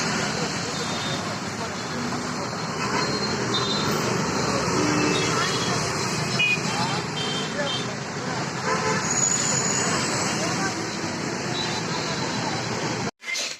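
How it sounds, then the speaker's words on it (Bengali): Dense road traffic with passing cars and occasional horn toots near a bus stop on a roadside in Bangalore, a loud, continuous roar of engines running steadily throughout. "প্রচণ্ড আওয়াজ, এদিকে গাড়ি চলছে খুব।"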